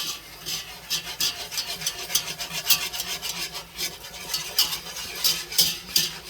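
A whisk scrapes rapidly and rhythmically against a hot pan as flour and butter come together into a roux for biscuits and gravy, a close, continuous rasping with regular strokes and no voices.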